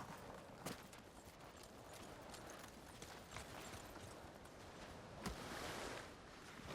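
Horse hooves walk in a steady clip-clop over an ambient background in the samurai video game Ghost of Tsushima, with a couple of sharper hoof strikes standing out.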